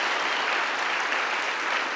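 A church congregation applauding together, a dense, even roar of clapping hands that fills the whole short moment without a break.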